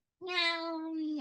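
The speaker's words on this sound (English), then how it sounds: "Oh, that is my cat actually." A cat gives a single drawn-out meow, clear and fairly close, rising at the start and holding steady before trailing off.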